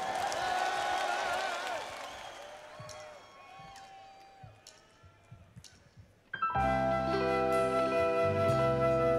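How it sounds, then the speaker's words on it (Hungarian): A crowd applauding and cheering at a live blues concert in Budapest's Syma Hall, loud at first then thinning to scattered claps, before amplified music with sustained tones kicks in abruptly. "Tapsot a barátomnak"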